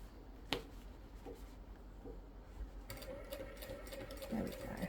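Sewing machine slowly stitching around a curved corner while making an iron caddy, brief soft mechanical runs and clicks, close and quiet, joined near the end by a steadier whirring burst.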